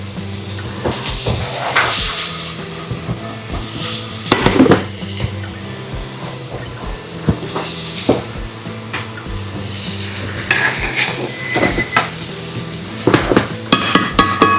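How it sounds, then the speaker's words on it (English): Onion and red bell peppers sautéing in a pan, a steady close sizzle broken by frequent clattering stirs and utensil knocks against the pan. "We're gonna basically let that saute, sweat out the onion, get the caramelization on those red bell peppers"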